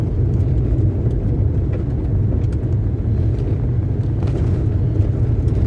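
Steady low road rumble from inside a moving car with sporty suspension on a choppy, broken-up road, with a constant drone and faint bumps and rattles throughout.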